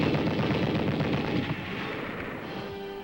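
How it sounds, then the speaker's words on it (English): Dense infantry gunfire during West Point cadet training at Camp Buckner, M1 rifles and other weapons crackling in a continuous rapid barrage that eases slightly toward the end. "In addition to the M1 rifle, we learned to fire other infantry weapons."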